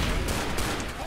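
Dual pistols fire in the zombie shooter game Left 4 Dead as a dense, continuous burst of gunshots that fills the whole second at steady, fairly loud level.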